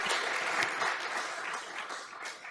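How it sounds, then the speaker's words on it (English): An audience gives warm applause after a lecture on lettering, a steady dense clapping of many hands in a room at moderate level, lasting a couple of seconds with no talk. "Please accept our warm applause."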